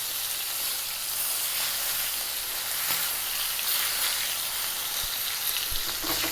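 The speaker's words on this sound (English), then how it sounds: "Let me grab a spoon. Let's start basting this over now." A bone-in ribeye steak basted in a hot pan keeps up a dense, even, loud sizzle, with faint spoon clinks near the end and no talk.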